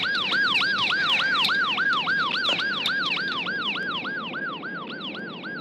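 An ambulance siren wails in a fast, repeating up-and-down pattern, loud and close, holding steady for several seconds before easing slightly, with a low road rumble beneath.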